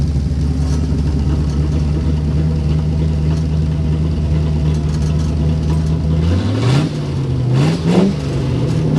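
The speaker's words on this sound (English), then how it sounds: "We'll open those cutouts for you one more time so we can rev it up." A restored 1953 Chevrolet 3100 five-window pickup with its exhaust cutouts open idles with a loud, steady rumble, then revs sharply twice near the end, each rise and fall of the engine clearly audible.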